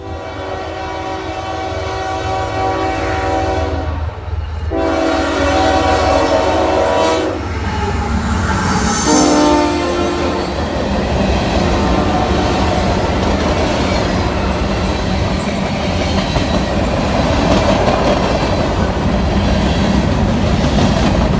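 Loud, close northbound CSX freight train passing in Princeton, Indiana, with sustained horn blasts early on giving way to a continuous heavy rumble and rattling cars.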